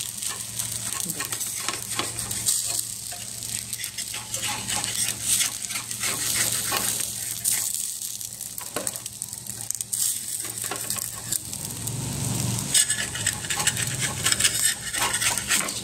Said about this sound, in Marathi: बघा, मी आता तुम्हाला परतून दाखवते. याला तो असा खमंग भाजला जातो